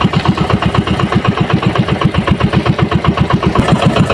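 A fishing boat engine idles nearby with a loud, steady chugging pulse, fast and even throughout, with no voices.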